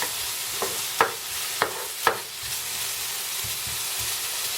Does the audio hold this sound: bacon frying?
yes